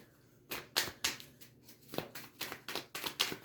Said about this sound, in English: I ain't the best shuffler in the world